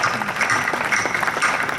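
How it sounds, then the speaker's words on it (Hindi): Audience applause at a Hindi kavi sammelan poetry recital in Sujangarh, a dense, steady clapping from a crowd that fills the whole short moment at moderate loudness. "घनघोर तालियों के लिए बहुत बहुत आभार"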